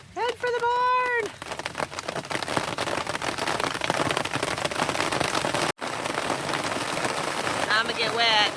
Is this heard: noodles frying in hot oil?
no